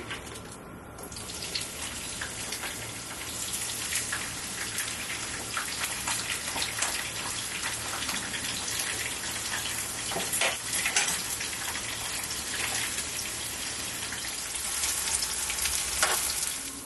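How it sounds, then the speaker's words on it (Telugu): Onions frying in about a cup of hot oil for chicken pot biryani, a dense crackling sizzle that builds after a brief quieter start and stays loud and continuous throughout, with no speech. "ఇప్పుడు మన ఆయిల్ హీట్ అయింది. మనం ఆనియన్స్ వేయించుకుందాము."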